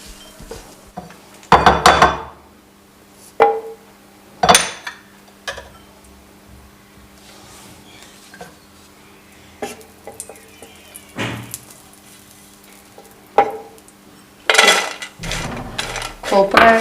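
Fried seeds are scraped from a pan into a separate bowl while sooji panjiri is made: sharp metallic clinks and scrapes of utensil against cookware in scattered bursts, close up, with quiet pauses between.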